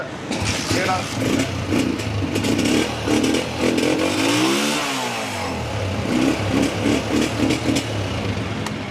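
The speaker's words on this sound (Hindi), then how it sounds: "होंडा 125 आपके सामने, साउंड भी सुना आपने।" Honda 125 motorcycle, a 2000 model, with its engine running and revving, a steady loud mid-pitched drone with rising and falling throttle, heard close and continuous throughout.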